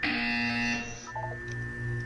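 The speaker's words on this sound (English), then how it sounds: "When you hear the buzzer, look down at the floor." In the video game Portal 2, a test-chamber buzzer blares as a loud, harsh, sustained electronic drone lasting about two seconds, with small tonal blips partway through.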